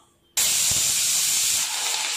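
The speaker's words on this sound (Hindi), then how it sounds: "4-5 सीटी के बाद हमने कुकर को खोल लिया है" A pressure cooker boiling carrots lets out a sudden loud, steady hissing whistle of escaping steam, close by and continuous, easing slightly near the end.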